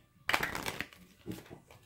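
Tarot cards are shuffled in a quick riffle, a short papery rattle up close that fades into soft handling sounds.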